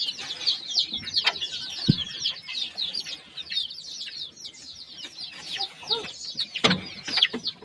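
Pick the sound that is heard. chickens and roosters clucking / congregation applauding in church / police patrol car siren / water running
chickens and roosters clucking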